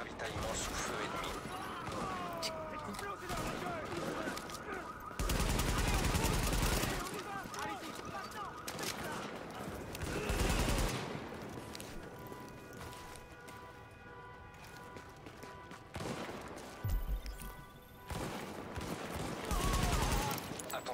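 Enemy gunfire in Tom Clancy's The Division during a supply drop, bursts of automatic rifle fire and scattered shots with mechanical clatter, loud and repeated over a busy game background with voices talking in between.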